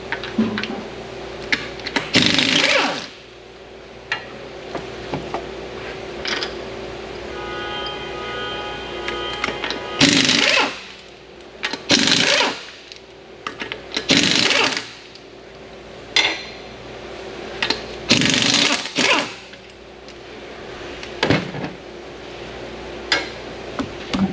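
A power tool on a Genesis GV70 spins the wheel nuts off, with several loud impact-wrench bursts separated by quiet gaps, light metallic clinks, and a low steady hum underneath.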